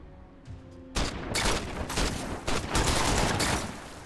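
Gunfire from a tactical RPG roguelite game: a quiet lead-in, then a dense, loud barrage of rapid shots and bursts that rolls on without letting up.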